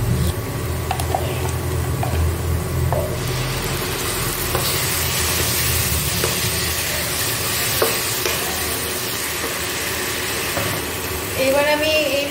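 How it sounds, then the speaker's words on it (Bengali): Chopped onion fries in a pan for a Bengali-style young jackfruit and prawn dish: a steady, close sizzle with stirring scrapes, and a voice is faintly present. "পেঁয়াজ কুচিটা এবার আমি কিছুক্ষণ ভেজে নেব।"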